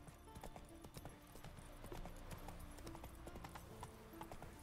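Horse hooves clip-clop steadily in The Witcher 3 as the mount climbs uphill switchbacks, a continuous rhythmic trot heard fairly faintly with no talk over it.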